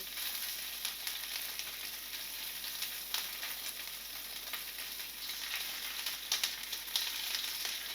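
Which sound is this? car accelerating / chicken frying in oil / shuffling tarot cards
chicken frying in oil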